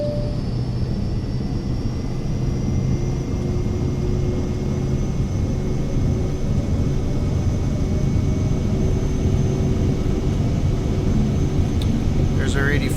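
A Cirrus Vision Jet in Microsoft Flight Simulator rolls for takeoff with a steady, moderately loud jet whine and rumble that holds even throughout, accompanied by a faint constant high tone.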